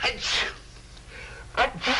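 Two sharp sneeze-like bursts, one at the start and one near the end, cut through a quiet indoor room with faint breathing between them.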